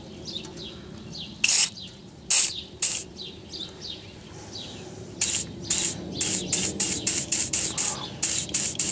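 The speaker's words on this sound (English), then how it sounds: "I'm going to try and loosen that with a little bit of WD-40." WD-40 spray applied to a bolt near a BMW or Mini ABS wheel-speed sensor, heard as short hissing bursts, a few spaced apart and then a rapid series of close squirts.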